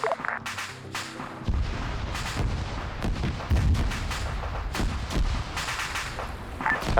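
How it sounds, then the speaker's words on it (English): A Tunguska air-defence vehicle's ammunition cooks off in a military video game, a string of heavy booming blasts and sharp cracks heard from some distance, irregularly spaced over a low continuous rumble. "I can see the Tunguska cooking off now."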